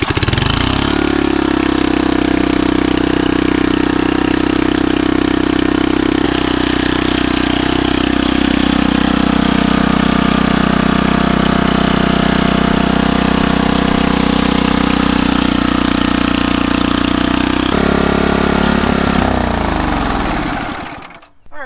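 A snowblower engine fitted with a new spark plug runs steadily and loudly for about twenty seconds, a close, even mechanical drone that briefly shifts pitch near the end before cutting off.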